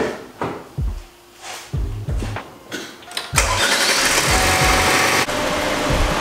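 A Cadillac ATS with a ZZP intake cranks over a few times with clunks, then catches and settles into a steady loud idle, heard close up with no talking.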